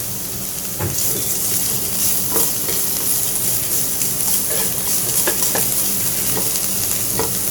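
Ingredients for chicken chow mein fry loudly in a pan, making a constant hissing sizzle punctuated by the occasional clink and scrape of stirring.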